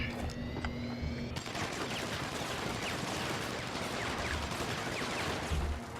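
Gunfire in the video game Deus Ex: Human Revolution: a dense, continuous crackle of rapid shots fired from a distance, steady in level and without clear gaps, with no voices.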